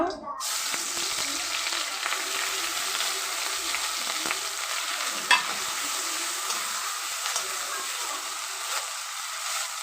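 Ginger and garlic fry in hot oil with a loud, steady, close sizzle that runs unbroken, broken only by a faint clink of stirring now and then.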